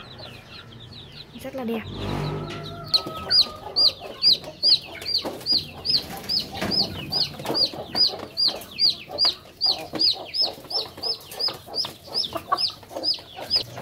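Hens and chicks in an enclosed coop give a rapid, regular series of high peeping and clucking calls, close and fairly loud, with a person speaking briefly near the start.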